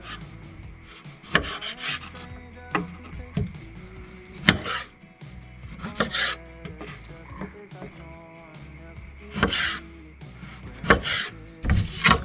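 A knife cuts a lemon into small pieces on a wooden board, with a string of sharp, irregular chops and rubbing scrapes, close and fairly loud, with no talking.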